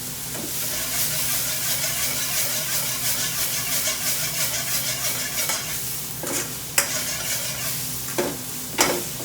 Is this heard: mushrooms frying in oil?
yes